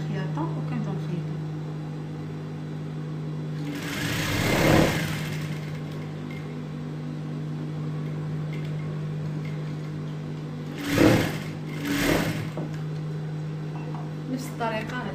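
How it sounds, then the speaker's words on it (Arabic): An electric sewing machine stitches the shoulder seam of a bolero cardigan, making a steady motor hum broken by a few louder whirring bursts of stitching, heard close up. "كنخليو سنتيم ديال الخياطة وكنبداو نخيطو"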